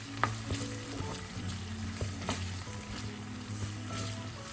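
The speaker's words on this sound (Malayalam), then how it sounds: "ബ്രൗൺ കളർ ആവുന്നവരെ ഇതൊന്ന് മൂപ്പിക്കണം" Ginger sizzling and frying steadily in a pan while being stirred, with scattered clicks and scrapes of the spoon over a continuous close sizzle, no voices.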